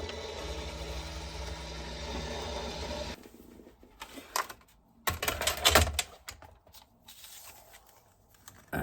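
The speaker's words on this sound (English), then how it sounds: "I'm now going to run this through the die cutting machine, and hopefully that will cut through both layers." A die cutting machine runs layered vellum card through its rollers, a steady mechanical whir with rhythmic clicking for about three seconds, then gives way to scattered clunks, taps and handling noises close by.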